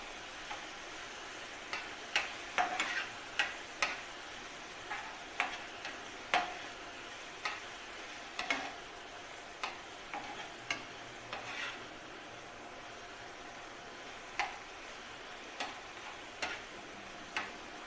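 Chicken pieces with garlic frying in a pan while being cooked until coloured, a quiet sizzle under sharp scattered clicks and scrapes of stirring, irregular taps recurring every second or so.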